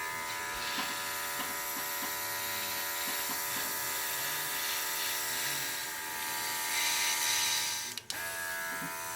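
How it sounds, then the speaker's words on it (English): A small airbrush sprays white paint onto a decorated cookie through a stencil, producing a steady, close, high hissing buzz with light rhythmic pulses and a brief cut-off near the end, no talking. "I'm going to airbrush this in white."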